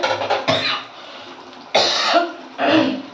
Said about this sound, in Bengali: কি হলো, কাশি হচ্ছে।